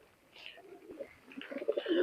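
Pigeons cooing softly nearby, a pair of high-flying breed birds giving low throaty coos that grow more frequent and louder toward the end, with no talking.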